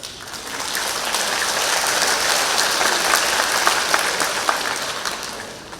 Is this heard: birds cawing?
no